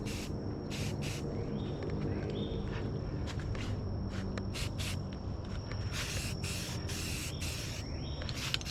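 Spray can bursts of rust-inhibiting primer hit bare metal spots on an old bike, short hissing blasts with pauses and then a run of longer sprays, close and clear.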